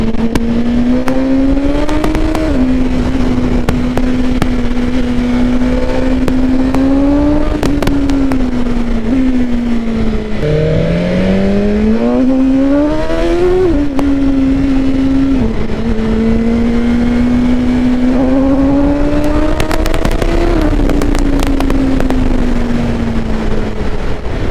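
A BMW M1000R motorcycle engine roars loud and close, holding a high droning pitch that rises through several surges of hard acceleration, with brief dips between them.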